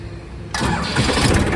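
A Massey Ferguson 241 tractor engine cranks and fires, a short quiet lead-in giving way abruptly to a loud rough diesel burst that settles into a running roar.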